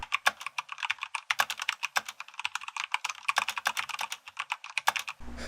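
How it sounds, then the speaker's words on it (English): Rapid, steady typing on a Corsair K70 RGB Rapid Fire mechanical keyboard, with crisp, close key clacks running continuously with no voices. "this is the Corsair K70 RGB Rapid Fire keyboard. Here's some typing for why I like it so much."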